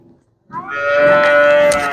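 A calf, offspring of a cow being offered for sale, lets out one long, loud moo that starts about midway and holds steadily to the end, close to the microphone with no talk.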